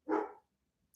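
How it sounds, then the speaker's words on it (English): A single sharp dog bark sounds close and loud, then silence and a brief bright clatter right after. "My dogs are just barking at something."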